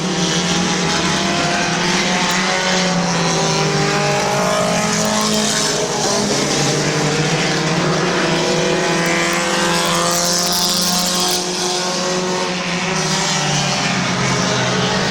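Race cars lap Midvale Speedway, several engines wailing together in a loud, sustained roar that rises and falls in pitch as they pass, close and unbroken throughout, with no voices.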